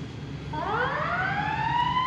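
Ambulance siren at a car rollover accident on a street corner in McKeesport, Pennsylvania, wailing up in pitch as it starts, fairly near and loud over steady traffic rumble, with no talking.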